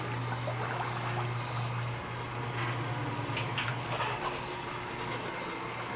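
A Featherman scalder dunks chickens under roughly 150-degree water, giving a faint, steady churning and sloshing of water against a constant low machine hum, with no talk.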